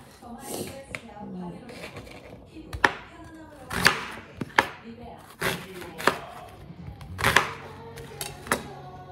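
A knife chops onions on a cutting board in irregular sharp knocks, close and fairly loud, while a person talks quietly throughout.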